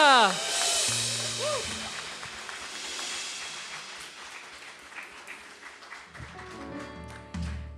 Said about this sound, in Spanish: Si ese aplauso es para Cristo, que se escuche bien fuerte